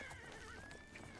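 A horse in the video game Oblivion gives a short whinny with clip-clopping hooves, close and fairly quiet against a steady game-world ambience.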